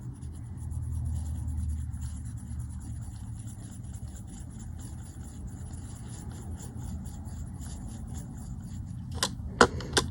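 Graphite pencil shading on paper makes a steady, soft scratching that runs continuously over a low background rumble, followed by a few sharp taps near the end.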